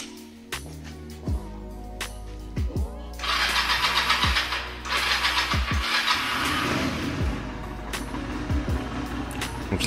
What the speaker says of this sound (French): Et un serrage contact plus un poil suffit largement. Et on va tester le démarrage.